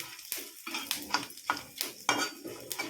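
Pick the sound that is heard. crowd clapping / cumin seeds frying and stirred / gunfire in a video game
cumin seeds frying and stirred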